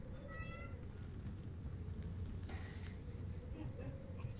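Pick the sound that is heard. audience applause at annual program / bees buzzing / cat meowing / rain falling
cat meowing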